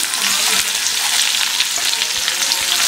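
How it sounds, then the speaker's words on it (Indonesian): Chili, lemongrass, ginger, garlic and shallots sauté in a hot pan with a steady, loud, close-up sizzle and occasional stirring clatter, with no talking. "Sekarang kita tumis semuanya, masukin aja."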